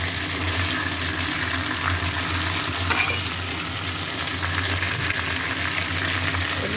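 Fish fries in a pan with ginger paste masala, giving a loud, continuous close-up sizzle and crackle that holds steady throughout, with a brief stirring scrape partway through.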